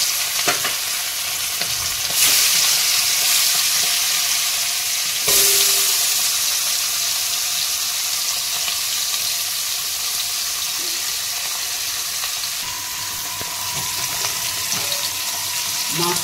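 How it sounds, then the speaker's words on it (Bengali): Fish frying in hot oil with a little turmeric over a lowered flame, giving a steady, close, continuous sizzle with occasional clinks of stirring and no talk. "মাছটা ভাজছি তো"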